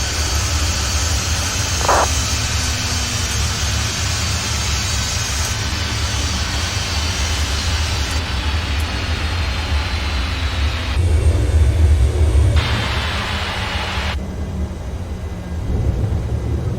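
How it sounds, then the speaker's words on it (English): Jet engines winding down in the Microsoft Flight Simulator X video game: a steady, loud roar and whine that shifts in pitch and fades in stages, with no voices over it. "Alright, all the engines are shut down."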